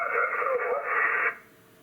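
Receiver hiss and static from a Yaesu FTDX10 ham radio, a steady loud band of noise that runs for over a second and then drops away sharply as the squelch cuts it to near silence.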